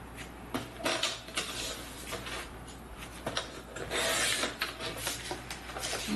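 Paper for a scrapbook pop-up page being cut, with steady rasping, scraping strokes and a few sharp clicks, close and continuous, with no speech.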